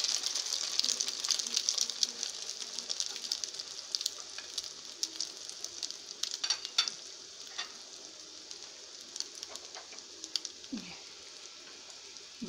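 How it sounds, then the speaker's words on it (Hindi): Sweet breakfast toast pieces sizzle and crackle steadily in a hot pan, a continuous close frying hiss with scattered pops and a few brief clinks, no talking. "बाकी पीसेस को भी हम इसी मेथड से फ्राई करेंगे।"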